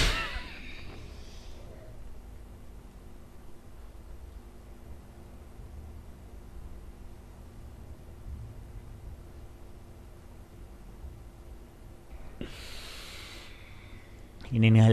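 Yoga breathing during Hatha Yoga practice: a strong breath opens the clip, a long quiet hold follows, then another audible breath rushes in near the end. The breaths are close and stand alone.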